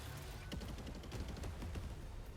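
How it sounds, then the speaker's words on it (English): Anti-air bombardment in the video game 13 Sentinels: Aegis Rim, a steady spray of quick gunfire pops and crackles that sound like fireworks. It is moderately loud over a dense rumbling battle bed and runs for a couple of seconds. "I like how anti-air bombardment literally just looks like a shitload of fireworks"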